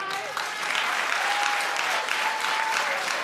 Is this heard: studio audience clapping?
yes